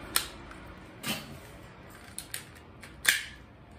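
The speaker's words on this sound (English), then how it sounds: "I want to shoot at my wall, but I want it to bounce back." A BB gun fires at an indoor wall in four sharp, separate snaps, each a brief crisp click-pop with a quick tail, spaced about a second apart in a quiet room.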